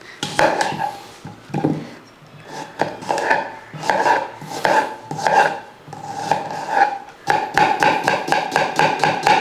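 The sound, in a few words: chopping a large onion finely with a knife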